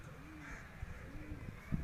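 Racing pigeons cooing on a rooftop loft as a bird comes in, soft repeated coos low and close against a steady background hum with faint distant voices.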